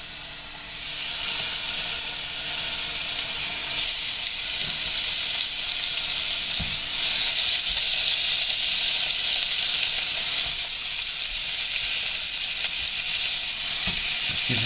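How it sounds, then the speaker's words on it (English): Beef short ribs hit a hot pan and sizzle loudly and steadily, a bright crackling hiss that continues for a long stretch, with occasional faint clinks. "when I put this in here, you're going to hear this sizzle"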